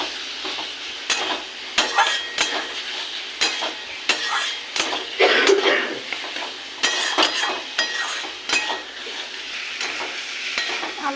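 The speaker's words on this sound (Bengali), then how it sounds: "এবার দিয়ে দেবো ভেজে রাখা আলুগুলো। এটাকে একটু কষিয়ে দেবো।" Fried potatoes get stir-fried in a pan for a potol paneer dish, with repeated scraping and clinking strokes of a spatula over a steady sizzle, heard up close with no talking.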